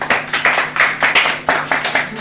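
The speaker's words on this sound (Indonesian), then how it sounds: "Boleh tepuk tangan dahulu" A small audience claps at a youth organisation gathering, a loud close run of rapid handclaps with an uneven rhythm, several claps per second continuing throughout without talk.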